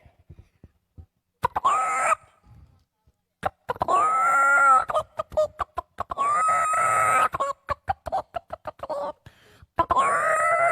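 A mimicry artist's voice imitating a rooster calling a hen that holds grain in its beak: several loud, drawn-out clucking and crowing calls broken by sharp clicks and short pauses, close to the microphone.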